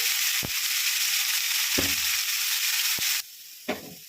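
Washed potatoes and onion stalks sizzle loudly in a hot pan for a Kerala-style stir-fry, a steady broad frying hiss broken by a few thumps and stirring scrapes, with the sizzle dropping off sharply near the end.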